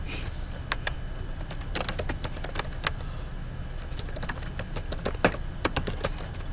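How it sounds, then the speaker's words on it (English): Rapid, steady typing on a computer keyboard, dense close key clicks with irregular bursts and brief pauses, running alone for several seconds over faint background hiss. "So I'm going to type that up here."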